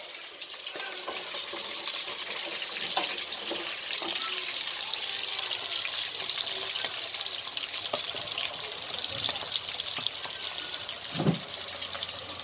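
Onions, mushrooms and peppers frying in a pan while being stirred constantly, a steady close sizzle with scattered scraping and clicking from the utensil throughout.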